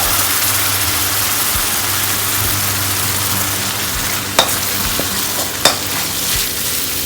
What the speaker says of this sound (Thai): นี่ผมผัดพริกไทยหอม